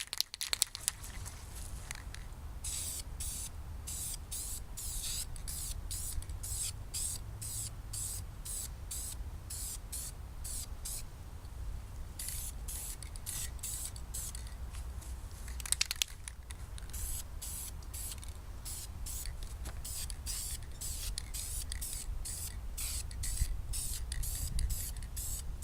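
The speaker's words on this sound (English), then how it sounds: "I'm going to paint these strut tower bar ends." Aerosol spray paint hissing onto strut tower bar ends in short bursts with a steady rhythm of repeated sprays and brief pauses, fairly close and continuous for most of the stretch.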